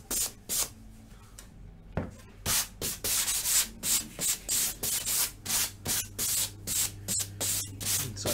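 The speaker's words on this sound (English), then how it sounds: "I think just a fine sand there is going to be enough" Fine sanding of a wooden clip frame by hand, a steady run of close, rhythmic rubbing strokes, about a dozen back-and-forth passes with brief gaps between them.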